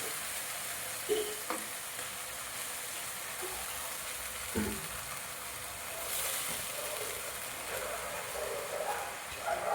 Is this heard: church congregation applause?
no